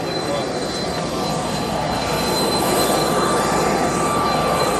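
A private jet's engines run with a loud, steady whine and roar that fills the cabin continuously, with no clear talk.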